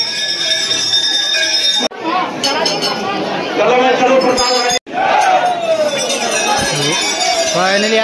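Dense crowd of people at a Hindu temple (Narayani Mata), a continuous loud hubbub of many overlapping voices with clinking and shouts, nearby chatter throughout, briefly cut twice.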